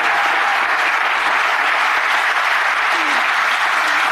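Steady, dense applause from a large audience, played back as part of a broadcast segment, continuous and fairly loud throughout with a faint voice briefly surfacing.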